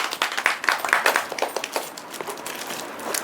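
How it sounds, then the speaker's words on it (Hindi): Applause from a classroom audience for a student named Pooja during an idioms challenge, dense irregular claps held fairly close and steady for a few seconds, easing slightly toward the end. "तो पूजा के लिए एक बार तालियां बजाई जाए"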